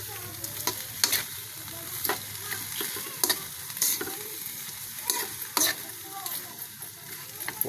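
A frying dish of ingredients in oil is stirred in a pan, with sharp scraping strokes at irregular intervals over a continuous sizzle, close up and with no voices.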